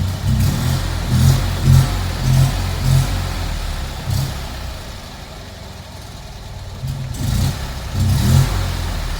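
A Fiat 126p engine runs nearby as the choke is turned down, with uneven, pulsing revs that fade to a quieter lull midway, then surge again in rhythmic bursts.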